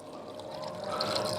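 Liquid poured into a stew pot of bay leaves, carrots and potatoes over a wood fire, a soft continuous pour that grows a little louder and fuller toward the end.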